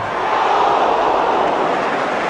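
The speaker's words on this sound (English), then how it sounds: "Well might the crowd ooh." Football crowd at a 1973/74 match between Manchester United and Manchester City, a loud sustained broadband roar swelling slightly after a near-miss shot, steady and dense throughout with no speech.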